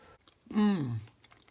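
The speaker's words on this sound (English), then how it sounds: "The crunch of the walnuts is really yummy" Someone chews a mouthful of oil-free vegan stuffed pumpkin with crunchy walnuts, a soft close bite under a brief spoken voice, then quiet.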